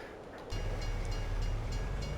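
A train in Farming Simulator 22 starts a low, steady rumble with faint rhythmic rail clicks on a snowy forest map, continuous and fairly loud, with no talk.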